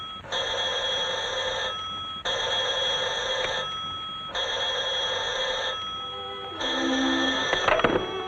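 An old 1940s telephone bell rings in repeated long bursts, four loud rings separated by short pauses, the last ending in a clatter as the receiver is picked up.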